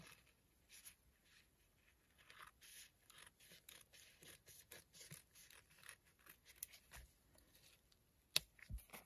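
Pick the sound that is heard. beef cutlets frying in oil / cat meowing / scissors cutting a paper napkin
scissors cutting a paper napkin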